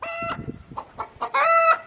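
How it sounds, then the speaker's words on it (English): Two chickens in a coop cluck at close range, making short clucks that build into a louder, drawn-out squawk near the end. "there's actually 2 chickens in here"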